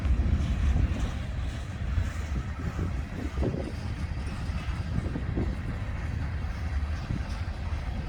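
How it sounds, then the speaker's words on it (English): A Union Pacific freight train rolls past at Wheelon, Utah, on the Ogden Subdivision, a steady, loud rumble of wheels and cars with faint rhythmic clatter, continuous and close throughout. "No articulated cars in this train."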